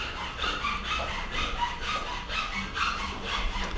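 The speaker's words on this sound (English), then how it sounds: "I can hear the saw just from the distance here." A saw cuts through wood during set construction in a television studio, its steady back-and-forth strokes repeating about twice a second, heard from a little distance with no talking.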